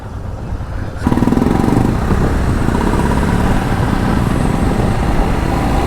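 A Royal Enfield Interceptor 650 motorcycle engine bursts in after a quiet second, then runs loud and very close with a rough, throbbing exhaust rumble that stays steady throughout.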